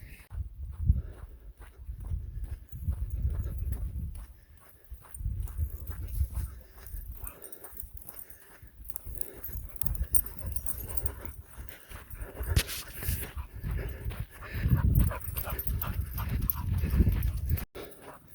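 Several dogs out on a run in the Arizona high desert, their paws and footfalls making a steady rhythmic patter close by, with bursts of movement and brief whimpers over a low outdoor background.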